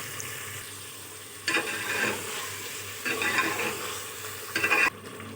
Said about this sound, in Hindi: दही डालने के बाद फिर 2 मिनट और फ्राई कर लेंगे।